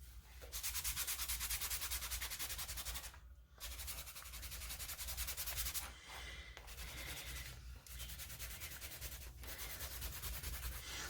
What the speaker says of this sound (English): I'm going to take a rag and I'm just going to do this, and I'm going to rub some of it back off.